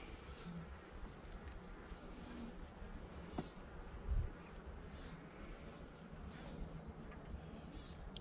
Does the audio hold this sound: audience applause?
no